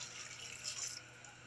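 Water is poured into a pot of rice for cooking kuska, a soft, steady trickling stream that sounds faint and close by.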